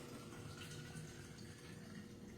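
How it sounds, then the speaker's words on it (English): Liquid is poured into the bottle of a sparkling water maker in a kitchen, giving a steady, continuous watery rush that holds even for the whole stretch at close range, with no talking. "So I'm going to go ahead and pour that in here into this bottle."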